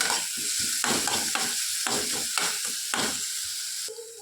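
Tomato, green chili and cumin sauté in a hot pan for Bombay chutney, with steady sizzling and repeated scraping stirs of a spoon across the pan, close and loud, and no voices.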